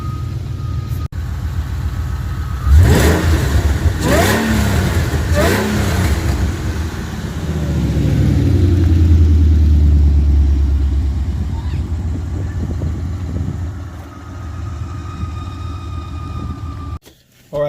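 A 1996-2004 Ford Mustang drives by and accelerates, its engine rising into a strong revving swell before easing off, with a few sharp bursts early on and the car fading at the end.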